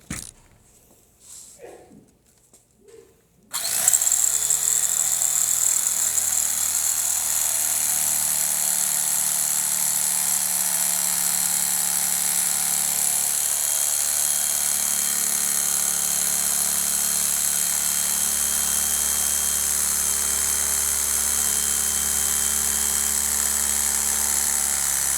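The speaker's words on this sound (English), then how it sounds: "So I'm going to start my cut holding my blade straight up." Foam being cut with a blade, a steady, loud buzzing hiss that starts abruptly after a few seconds of faint handling noise and runs unbroken to the end.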